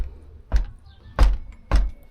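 A sagging PVC door knocks against its frame without closing, giving three hollow, loud thuds spaced about half a second apart, close by with no talking.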